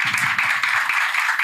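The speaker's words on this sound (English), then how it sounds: "I would just invite the audience just to join me in a round of applause for our panel." A conference audience claps for a panel, a brief dense burst of applause at steady loudness, close and without talk.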